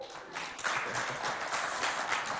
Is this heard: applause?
yes